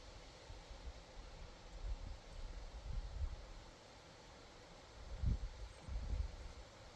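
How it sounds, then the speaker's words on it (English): Outdoors, gusts of wind whip past and buffet the microphone in low, rumbling surges that swell and fade several times over a quiet background hiss. "you can hear the wind whipping"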